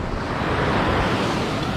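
Sea waves washing at a beach, a continuous broad rush of surf with wind noise, steady and fairly close, no talking.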